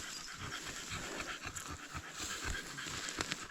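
Dogs pant hard after running through a forest on a mushroom-picking walk, their quick, rhythmic breaths steady and close throughout, with a faint whine and rustling outdoors.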